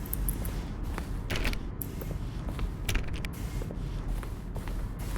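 An office door creaks in the video game The Stanley Parable, a drawn-out, fairly quiet creak with short mechanical squeaks and clicks repeating over a few seconds.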